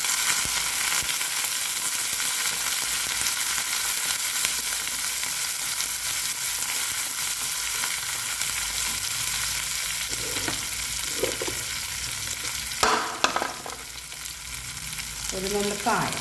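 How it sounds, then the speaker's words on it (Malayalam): Ginger, garlic and green chillies sautéing in a pan for a dates pickle, a loud continuous sizzle throughout with occasional utensil knocks and stirring clatter toward the end. "നന്നായി വഴറ്റാം."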